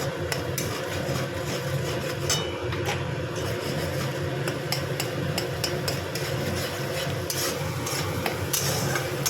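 Turmeric powder, salt and spice paste frying in oil in a pan for a Bengali bhetki fish curry, stirred steadily; a dense, continuous sizzle with scraping and occasional clinks, fairly close and without a break.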